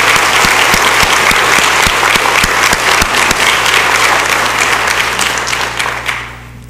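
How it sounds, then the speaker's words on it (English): Loud, sustained applause from an audience honoring four students at a school recognition ceremony, dense clapping with a few sharp individual claps standing out, fading away over the final second. "A hand clap for these"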